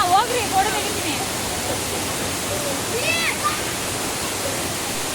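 Achakanye waterfall on a trekking route near Kavaledurga fort, giving a steady, loud broadband rush of falling water that fills the whole clip, with faint voices in the background.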